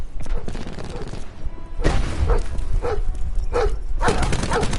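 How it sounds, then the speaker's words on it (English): A dog in Black Ops 4 barks several times in sharp bursts amid loud gunfire and game noise, with a voice also present. "I'm more worried about the dog there than anything."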